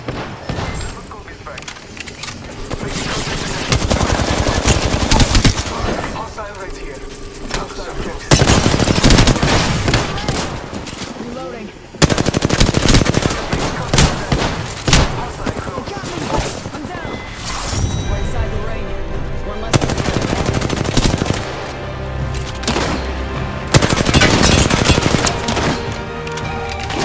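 Gunfire in Apex Legends ranked play, rapid automatic bursts and dense volleys of shots repeating loudly through the match with a few brief lulls, with a player talking over the action.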